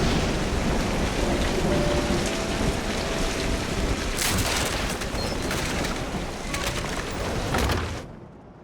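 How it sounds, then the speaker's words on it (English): A thunderstorm pours heavy rain, a dense steady roar of drops with bursts of thunder crackling through partway, before the sound drops away abruptly at the end. "The thunder startled me."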